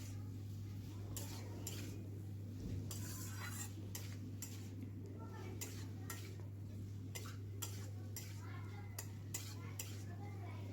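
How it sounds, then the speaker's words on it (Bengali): Potato and cauliflower with masala are stirred in a pan, with quick repeated clinks and scrapes of a utensil against the metal over a faint sizzle and a steady low hum, quiet and close. "এবার দেখুন আলু ফুলকপিটা মশলার সাথে ভালো করে একটু কষিয়ে নিতে হবে।"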